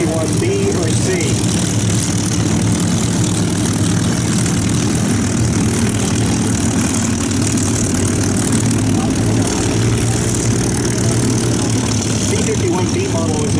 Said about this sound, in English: the Mustangs are taxiing in front of us now